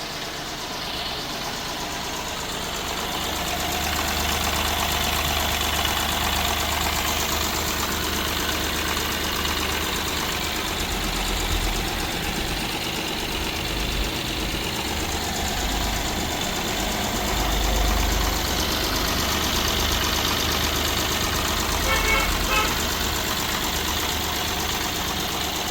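A Mahindra TUV 300 T6 diesel with its mHawk engine idles steadily, a continuous low rumbling drone with a faint knocking texture, heard alone without talk.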